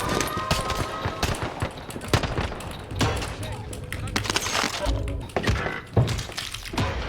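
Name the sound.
gunfire in a Call of Duty video game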